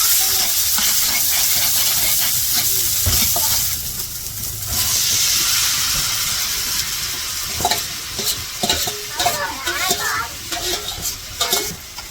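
Loud, steady sizzling from a hot pan as onion, chilli and spices fry for cauliflower curry, with bursts of frying hiss and stirring scrapes as ingredients are moved around.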